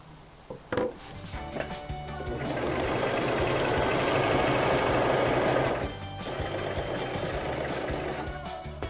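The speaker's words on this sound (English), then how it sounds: "It's very important to run a few stitches with just the cover stitch before you add the top thread." A Brother CV3550 cover stitch machine runs a steady, fast mechanical whir of stitches for several seconds, starting after a few clicks and handling sounds, then easing into a slightly quieter hum.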